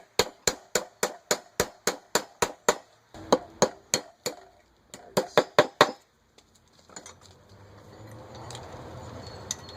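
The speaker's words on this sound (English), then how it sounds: "Let's drive the pin out." A hammer drives a rusted pin out of a marine starter from a Mercruiser engine, with about fifteen sharp metallic blows in quick even runs and short pauses, followed by quieter rattling and handling noise, with no talk.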